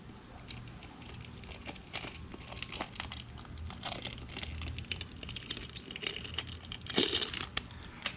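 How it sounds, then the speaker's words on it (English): A thin plastic cover is peeled off a K&N 204-1 oil filter, producing steady close crinkling and crackling rustles with a few sharper snaps near the end. "Plastic cover off."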